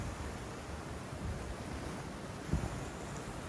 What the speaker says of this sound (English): The raw power of the ocean is palpable here.